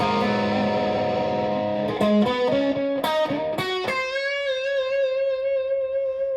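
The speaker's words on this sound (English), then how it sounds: "let's see where we get with raising the distortion from under a fifth of its capacity to about halfway" An electric guitar played through an Ibanez Tube Screamer distortion pedal with the distortion at about halfway rings out in crunchy, overdriven chords and a few quick notes, ending on a long sustained tone that fades slowly.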